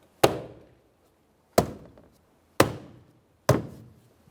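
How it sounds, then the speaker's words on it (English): Four sharp tapping knocks on a 2015-2019 Subaru Outback rear interior door panel being seated, spaced unevenly, each a short solid thump with a quick decay, with silence between. "Okay, we'll just tap that in."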